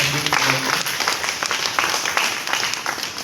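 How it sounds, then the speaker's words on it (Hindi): Loud, dense applause from a gathered audience at a block-level meeting honours newly elected panchayat winners, sustained clapping throughout with a few voices mixed in. "उनके लिए जोरदार तालियां आप लोग।"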